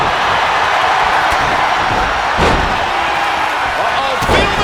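In a packed wrestling arena, a heavy chest blow lands as a dull slam, with a second impact a couple of seconds later, both rising above the constant roar of the crowd.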